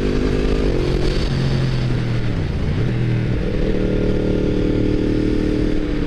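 Yamaha MT10 motorcycle engine running loud and close, a steady throaty roar with pitch rising and dipping as the revs change, heard alone with no talk.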